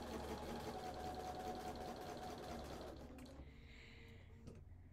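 A domestic sewing machine stitches a quarter-inch quilting seam through pieced fabric, giving a close, steady mechanical whir for about three seconds before stopping, followed by faint handling sounds.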